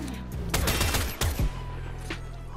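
Latron Prime rifle fire in the Warframe video game, a rapid burst of loud, close shots over about a second, followed by a lighter, fainter shot against a steady low game hum.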